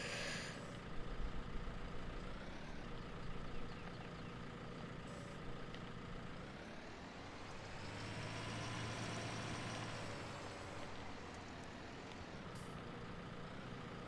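A skid steer loader's engine runs steadily on a farm, a continuous diesel drone that rises and swells in the middle as the machine works, with occasional higher squeaks and clanks.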